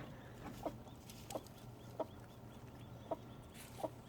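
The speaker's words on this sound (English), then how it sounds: "You can hear the chicks peeping in there." Faint, quiet peeping chirps from baby chicks near their mother repeat at irregular intervals, about five short calls over a soft steady background hum.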